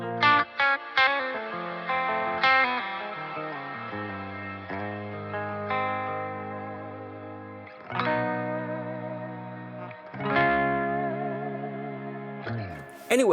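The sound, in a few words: Aurora DSP Kobraa guitar amp plugin with shimmer effect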